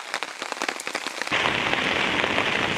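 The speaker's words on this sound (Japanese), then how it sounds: "すごい雨の中だよ" Heavy rain pouring down outdoors on a walk, starting as scattered drops tapping nearby before swelling abruptly into a dense, steady loud hiss that continues to the end.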